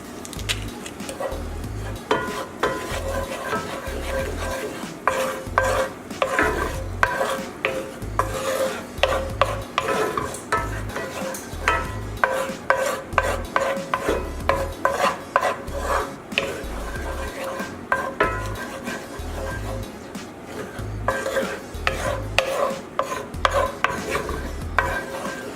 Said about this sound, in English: Stir in the sour cream.